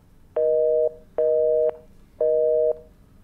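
Telephone hang-up tone in the game Chronicle of Innsmouth, three evenly spaced steady beeps, each about half a second long with short gaps, clear and alone.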